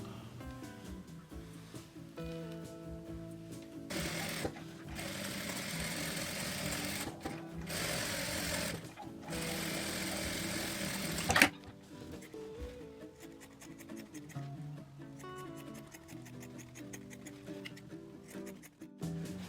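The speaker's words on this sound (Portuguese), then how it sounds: "Vou passar o ferro e passar a costura em toda a volta, uma costurinha de segurança aqui também, para fixar os dois" A sewing machine stitches all around the fabric edge of a ruffled, flap-style toiletry pouch, running steadily for several seconds with brief stops, then pausing among soft handling clicks.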